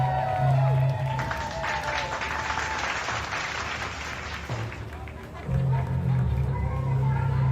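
A crowd claps continuously, dense and close, mixed with cheering voices and crowd noise.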